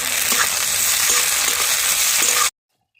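Onion and tomatoes fry in a pan with a loud, steady sizzle and a few soft stirring scrapes, up close, with no talking, before the sound cuts off abruptly near the end.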